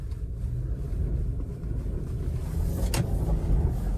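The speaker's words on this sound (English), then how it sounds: "Lots of wheel spins, going sideways a little bit, but not too bad." A Subaru Outback pushing through unplowed snow, its engine droning in a steady low rumble as the wheels spin, with a brief brighter scrape near the end; no one talks.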